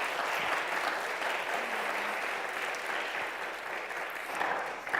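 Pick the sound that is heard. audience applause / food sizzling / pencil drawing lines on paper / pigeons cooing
audience applause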